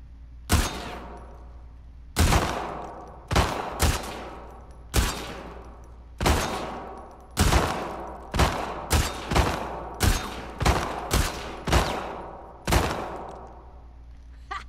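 Single gunshots fire one after another at irregular intervals during a target-shooting contest in The Last of Us Part II, with sharp loud reports and quick decays, the pace quickening toward the end of a full magazine.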